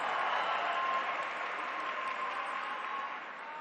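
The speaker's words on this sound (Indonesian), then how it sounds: "Tepuk tangan untuk para pejuang reformasi kita." An audience at a national speech event marking 25 years of reform applauds, a steady wash of clapping that fades slightly toward the end.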